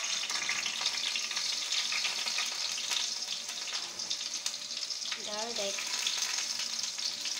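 Ginger and garlic sizzle steadily in a hot pan while chicken caldereta is being cooked, with a continuous close frying hiss and occasional stirring scrapes; a voice speaks briefly.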